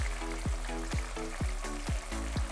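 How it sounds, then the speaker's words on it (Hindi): Crushed tomatoes cook in a pan, giving a steady close sizzle and bubbling, with regular soft knocks of a spoon stirring through the mixture. "ये देखिए टमाटर पक रहे हैं।"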